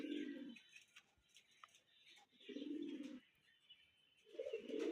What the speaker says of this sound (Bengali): ওই যে কবুতর কবুতর কত উপরে